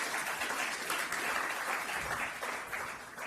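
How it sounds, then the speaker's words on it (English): Audience applause for a panel moderator at a Belgrade forum event, a steady sustained clapping from a full room lasting throughout without a break. "And a bit of applause for Misha."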